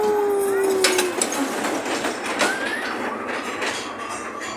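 A train rumbles past nearby with a steady broadband roar, a high squeal early on, and wind noise; voices are faintly present.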